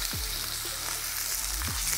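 Lamb, drained and dried, sears in a heated pan with butter to come, giving a loud, steady close sizzle broken by a couple of brief scraping or turning sounds.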